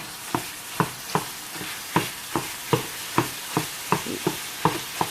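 Ground turkey being stirred in a pot of frying dirty rice, a spoon scraping and pushing the meat about a dozen times in steady strokes over a soft, constant sizzle, close and clear.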